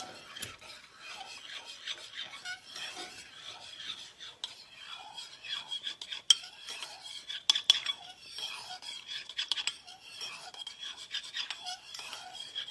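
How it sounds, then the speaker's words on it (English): Heavy whipping cream stirred into cream cheese with a spoon: quiet, repeated raspy scraping and rubbing strokes against a bowl, with a few sharper clinks. "I'm just gonna add it to the cream cheese and stir it around a little bit"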